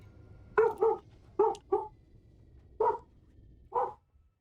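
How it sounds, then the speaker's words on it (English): A pet dog barks at the neighbours in six sharp, fairly close barks, the first two and the middle two paired, the last a lone bark, with soft background noise between. "My dog saying hi to the neighbors."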